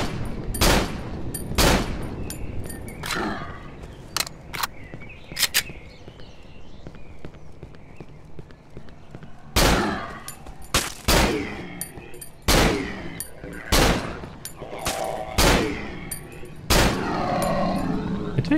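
Gunshots in the horror game Cry of Fear, with loud single shots spaced irregularly and then in quicker groups, each ringing out over a low ambient background.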